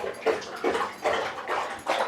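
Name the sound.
dog drinking water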